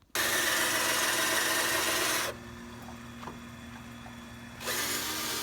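A power drill bores out a mount for a Honda CRX, grinding loudly and steadily for about two seconds, dropping to a quieter whir, then rising again near the end.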